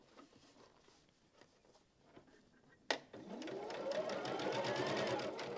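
Quiet handling noises and faint taps come first, then a sharp click as a sewing machine starts stitching quilt units, its motor running in a close, steady, loud whir with rapid needle ticking to the end.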